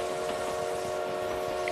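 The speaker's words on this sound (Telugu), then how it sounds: "ఇంకా ట్రైన్ అయితే మూవ్ అవుతుంది" A steady mechanical rumble with a droning tonal hum, continuous and unchanging, of a train rolling along in the video game BGMI.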